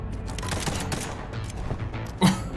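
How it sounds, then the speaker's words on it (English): Rapid bursts of video game gunfire crackle in a continuous fusillade, with one sharper, louder shot standing out near the end. "They hear gunshots"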